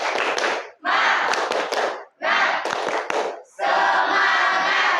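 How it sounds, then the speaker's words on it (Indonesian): A classroom of students does a rhythmic spirit clap in four bursts of loud group clapping and shouting, each separated by brief pauses. "Tepuk semangat."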